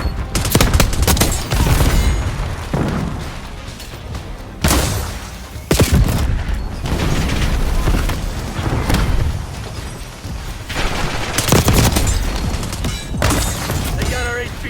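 Video game firefight with heavy, loud gunfire and booming blasts, rapid volleys coming in waves over about fifteen seconds, separated by brief lulls with a few short in-game radio voice lines between them.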